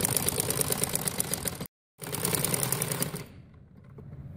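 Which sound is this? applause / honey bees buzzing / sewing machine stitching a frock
sewing machine stitching a frock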